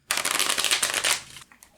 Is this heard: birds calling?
no